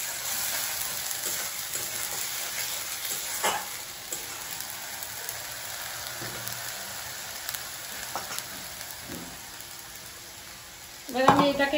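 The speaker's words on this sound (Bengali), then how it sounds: "এবার আমি মশলাটা কষাতে থাকবো, জিরের গন্ধটা যতক্ষণ না যায়।" Spices with ground cumin fry in a pan as they are stirred and worked down, giving a low, steady sizzle and crackle with occasional scrapes, ending in a sharp utensil clatter.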